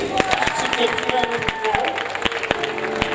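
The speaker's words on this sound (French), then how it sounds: "On va applaudir." Congregation clapping at a Mother's Day church service, dense overlapping claps with scattered individual hand strikes, moderately loud, with some voices and murmuring mixed in.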